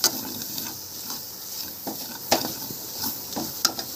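Flour roasting in a pan on low gas for palak gargatta, a soft continuous hiss with scattered light scraping and tapping of a spoon against the pan.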